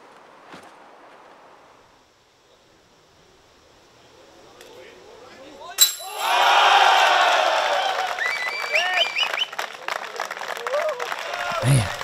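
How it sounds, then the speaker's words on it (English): Crowd at a disc golf tournament breaks into loud clapping and cheering after a quiet stretch, sustained and lively with whoops, heard at outdoor distance. "Still clapping."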